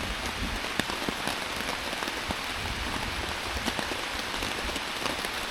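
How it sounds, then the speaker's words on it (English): Steady rain pattering on a surface at a hammock campsite, a dense, even hiss with scattered sharper drops striking nearby, continuous and alone with no talk. "Then it rained while the sun was shining a little bit"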